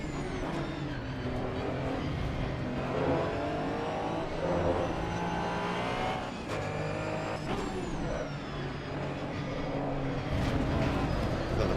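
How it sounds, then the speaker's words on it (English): A Ferrari engine in a racing video game revs and accelerates continuously, a loud, steady, rising whine through gear changes that lasts throughout, with no talk. "Ferrari's got some serious straight line punch to it."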